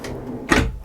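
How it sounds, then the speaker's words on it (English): A storage cupboard aboard a Windy SR44 motorboat swings shut with one solid, muffled clunk, close by in a quiet interior. "Everything shuts with a nice clunk."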